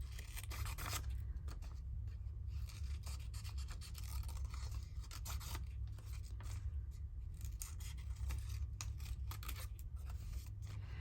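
Scissors snip through paper during a craft session with ephemera. Soft, repeated cuts and rustles come in an uneven rhythm, close but quiet, with no talking.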